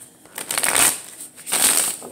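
A deck of playing cards riffled in two quick, close bursts of crisp fluttering clicks, one after another with a short pause between.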